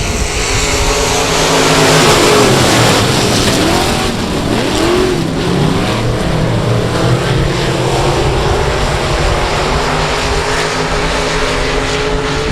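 Race cars roar around the oval at South Texas Speedway as the field accelerates, a loud, sustained engine drone with shifting pitch sweeps as cars pass, steady throughout without voices.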